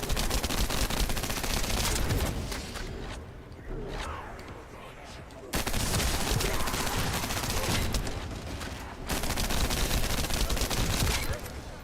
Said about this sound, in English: you're shooting the wrong thing, Enigma.